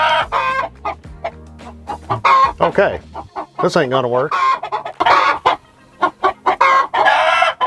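A rooster named Bojangles crows and clucks inside a chicken coop, loud and close in repeated bursts, with someone talking in between.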